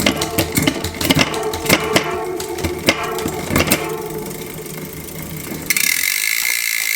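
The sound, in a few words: shifting SRAM GX Eagle derailleur to highest gear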